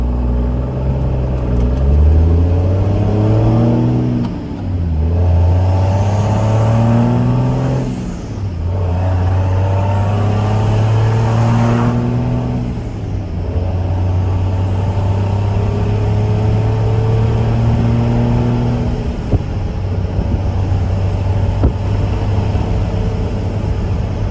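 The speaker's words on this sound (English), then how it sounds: "sound of the Cummins engine there too, so it's not like totally quiet, but it's much more tame." A 6.7 Cummins diesel truck fitted with an Aero Turbine-XL muffler drives with the windows down, its engine a steady, fairly loud low rumble that rises and falls through gear changes across the whole stretch.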